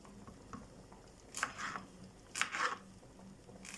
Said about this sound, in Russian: Помидорчик тоже нарезаю кубиком.